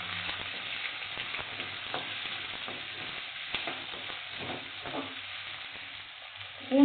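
Chopped onions sautéing in hot oil with popped mustard seeds for brinjal sambar, a steady crackling sizzle broken by faint stirring scrapes, close and moderately quiet, with no one speaking.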